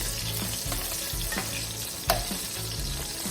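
Italian sausage links fry in a pan with a loud, dense, continuous sizzle and crackle heard up close, plus one brief sharp tap, with no voices.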